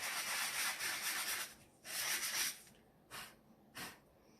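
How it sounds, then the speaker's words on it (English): Sandpaper rubs over embossed cardstock with a white core in a few close, raspy strokes: two longer scrubbing passes followed by two short swipes. "you're going to see this as you rub that sandpaper over it"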